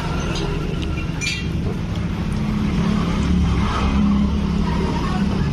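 Yamaha Nmax scooter engine idling with a strange mechanical noise, a steady close drone with a low rumble throughout, no talking.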